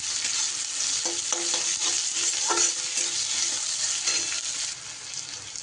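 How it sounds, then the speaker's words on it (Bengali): Onion and garlic sizzle steadily while frying in a pan for a Bengali bitter gourd (uchche) recipe, with intermittent scraping stirs of a spatula throughout; the sound is close and continuous, and nobody speaks. "দিয়ে একটু হালকা করে নাড়াচাড়া করে ভেজে নেব পেঁয়াজ আর রসুন।"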